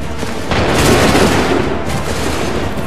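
Musket volley fire in the video game Assassin's Creed 3, a dense burst of overlapping gunshots that swells loud and close, then trails off into a rumbling tail.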